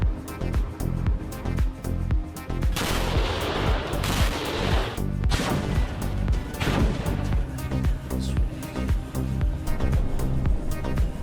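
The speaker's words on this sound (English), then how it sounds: "Judging by the size of the explosion, the hit landed on an ammo depot." An artillery strike exploding on an ammunition depot in wartime, with loud, heavy booming blasts and crackling secondary detonations that roll continuously for several seconds.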